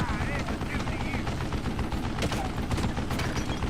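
Rapid machine gun fire from an old man manning a mounted gun in the Western shooter Call of Juarez: Gunslinger, dense continuous bursts filling the whole stretch alongside other gunfire and game noise.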